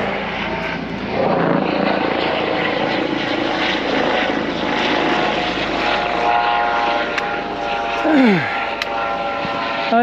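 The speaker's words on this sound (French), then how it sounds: "il y a un hélicoptère qui arrive." A helicopter's rotor thrum and engine drone grow over steady wind, with a faint whine sweeping downward near the end.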